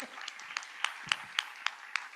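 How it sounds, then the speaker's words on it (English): A business summit audience gives scattered, fairly faint applause, with individual claps spaced out in a loose rhythm over a short stretch. "Big round of applause"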